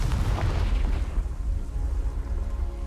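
A Confringo blasting spell in the video game Hogwarts Legacy explodes with a loud, deep boom that rolls off into a fading rumble, heard alone.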